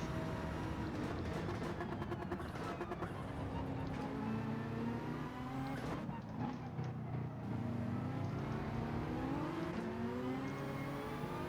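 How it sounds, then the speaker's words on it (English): Nissan GT-R Gr.3 race car engine in Gran Turismo 7, a loud continuous roar with rising and falling revs as gears shift, other cars passing nearby, and a commentator's voice running over it throughout. "Listen to that engine."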